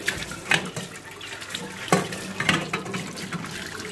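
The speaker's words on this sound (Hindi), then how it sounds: "तो मैं ये स्टीमर साफ कर लेती हूँ और तो धो के रख देती हूँ।" Tap water runs while a steamer is rinsed and washed at a sink, a steady close splashing stream broken by clanks and sloshing bursts as the metal piece is handled.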